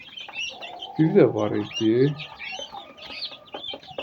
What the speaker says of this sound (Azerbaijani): İşte toyuqların arasında indi o toyuğu göstərirəm